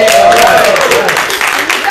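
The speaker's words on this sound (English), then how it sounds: "Give me a hand clap because we need it." Brief burst of audience hand clapping at a health-themed community talk, dense and loud from the start and thinning slightly toward the end, with a voice briefly heard over it.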